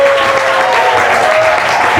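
A church congregation applauds in praise, a loud, dense, continuous clapping filling the hall without pause for two seconds, with faint voices mixed in beneath.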